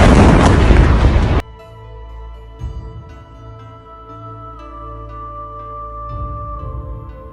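A loud explosion at an accident scene in Appiatse erupts as a dense roaring blast for over a second. It cuts off abruptly and gives way to quieter sustained tones and low rumbles.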